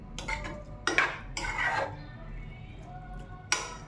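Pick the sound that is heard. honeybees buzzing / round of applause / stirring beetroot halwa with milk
stirring beetroot halwa with milk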